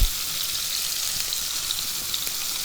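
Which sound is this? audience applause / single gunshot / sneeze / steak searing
steak searing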